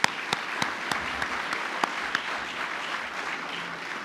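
Banquet audience at the Culpeper Chamber of Commerce annual awards ceremony clapping, a steady wash of applause with a few sharper nearby claps standing out, moderately loud and without talk.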